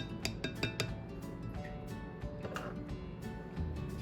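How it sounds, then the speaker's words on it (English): A big spoon clinks and scrapes in a bowl while the crust for seven layer cookie bars is mixed: light irregular taps and knocks at a quiet level. "I'm gonna use this big spoon to mix all my crust together."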